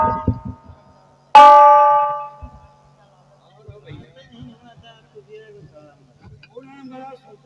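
A single bell strikes loudly and rings out for about a second before decaying, with talk before and after it in a theatrical skit.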